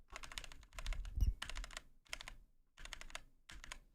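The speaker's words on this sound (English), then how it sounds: "So this is what my current keyboard sounds like." Close computer keyboard keys are pressed in short bursts of rapid clicks, separated by brief pauses. The typing is fairly soft rather than sharply clicky, with one duller thump partway through and no talking.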